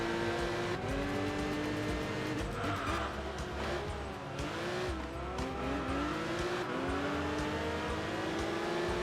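A race car engine revs continuously in Enthusia Professional Racing, pitch climbing and dropping through manually shifted gears with a clutch, with some tire squeal, loud and steady throughout.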